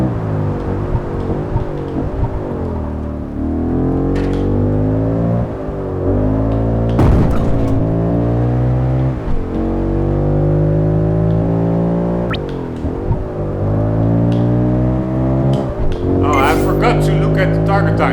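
A race car's engine in Project Gotham Racing 4 drones loudly and steadily throughout, its pitch rising and falling with shifts and revs, and a voice talks over it.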